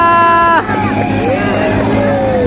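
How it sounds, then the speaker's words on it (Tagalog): Spectators at a Philippine bangkarera boat race, Boracay against Batangas, shout and cheer in a loud continuous roar, with whistling tones and excited voices blending into the babble throughout. "Sigawan ng mga tao."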